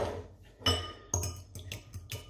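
Egg being whisked in a glass bowl, a few distinct clinks of utensil against glass in quick succession, close and fairly quiet.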